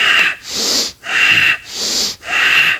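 Vigorous tantric breathing exercise: loud, forceful breaths in and out through the nose or mouth, in a steady rhythm of about four strong breaths in under three seconds, close to the microphone with no talking.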